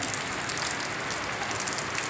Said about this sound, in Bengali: বৃষ্টি থামবে কিনা তাও কতক্ষণে থামবে জানি না